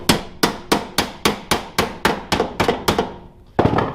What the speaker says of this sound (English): we're only wailing on it with a hammer